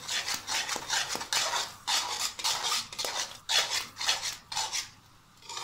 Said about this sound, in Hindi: दूध डाल के आपने इसको तेज आंच पे जल्दी जल्दी से भूनना है